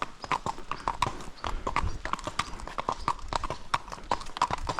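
Horse hooves clip-clopping at a walk on an outdoor training outing, a steady near rhythm of hoof strikes with faint background noise and no talk.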